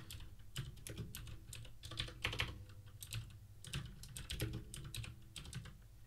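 Fingers type a terminal install command for tmux on a computer keyboard, with steady, close, crisp key clicks running in irregular bursts through the whole stretch and no voice.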